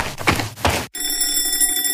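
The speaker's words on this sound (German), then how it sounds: "Das war der Timer." A timer goes off with a bright, steady metallic ringing that sounds like an electric bell. It starts abruptly after a couple of dull knocks and continues loudly and close, with no voices.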